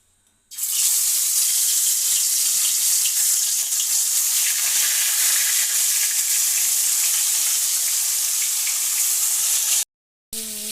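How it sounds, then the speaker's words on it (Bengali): Fish rubbed with salt and turmeric fries in hot oil, giving a loud, steady hiss and sizzle that carries on without a break, then cuts out briefly near the end. "মাছগুলো আমি ভেজে নিচ্ছি, তারপর রান্নাটা করবো।"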